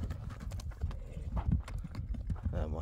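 A stallion's hooves clip-clop softly on the ground in an uneven series of quick steps, fairly quiet and close by.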